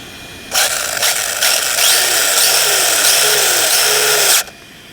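The dual-motor Rlaarlo AK-787 RC car's electric motors run at full throttle for about four seconds, a loud, high, steady whine that rises and wavers in pitch before cutting off abruptly.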